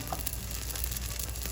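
A steady, hissing sizzle of naan flatbread frying in a hot pan, close up and continuous with no voices.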